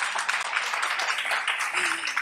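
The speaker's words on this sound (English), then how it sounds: "You can keep, keep applauding. It's nice to hear." A seated audience at a coding bootcamp demo day applauds graduates with sustained, dense clapping that fills the room at moderate volume, a faint voice briefly audible beneath it.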